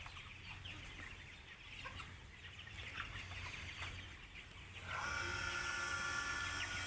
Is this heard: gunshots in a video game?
no